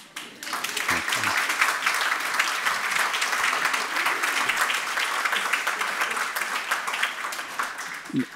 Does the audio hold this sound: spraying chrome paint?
no